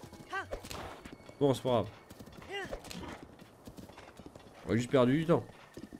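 Horse hooves galloping in Zelda: Breath of the Wild, a steady clip-clop of game hoofbeats running under a man's speech, with a brief whinny-like sound among the talk.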